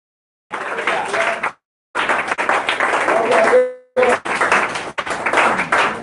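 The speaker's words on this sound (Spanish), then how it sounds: "Dale un aplauso al Señor" Congregation at a church service applauding in bursts with a few pauses, broadband clapping fairly close and loud, with voices mixed in.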